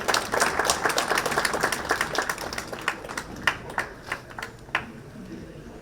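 Crowd applause at a government building inauguration ceremony in New Delhi, strong at first, then thinning into a few scattered individual claps as it dies down.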